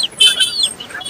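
At a pet market in Madurai where chickens and roosters are sold, close, loud bird chirps ring out in quick, bright bursts with no voices.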